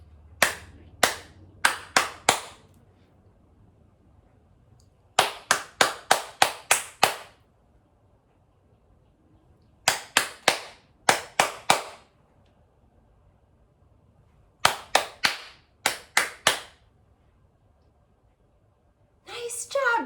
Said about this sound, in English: Let's start with clapping. I'm gonna clap it to you and you echo it back to me.